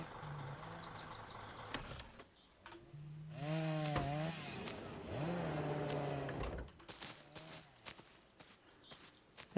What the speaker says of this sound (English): And this guy is just going to work with the chainsaw over there.